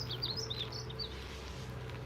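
Morning birds twitter in a short burst of high, rapid chirps that fade after the first second, sounding somewhat distant over a steady low background rumble.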